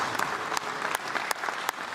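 Applause for both boxers at the end of a twelve-round professional fight held with no crowd present, a steady patter of clapping from a small group with a few sharper claps standing out, no voices.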